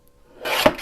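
Tool cutting through material for a hidden pocket journal, a short close rasping slice that rises in the second half and peaks in one sharp scrape before fading.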